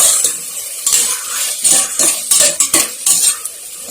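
Onions and tomatoes being stirred and sautéed in a pan for sai bhaji, with repeated scraping and clinking of a spoon against the pan over a faint sizzle, close up and with no talking.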